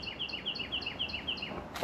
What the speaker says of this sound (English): I hear freaking birds chirping